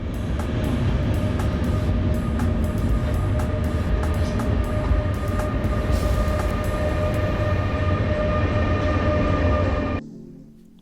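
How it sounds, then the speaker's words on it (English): Vienna's City Airport Train runs from the airport into the city with a loud, steady interior rumble and rail hum that holds continuously, then drops away sharply near the end. "So as we're taking our ride on the CAT into Vienna itself"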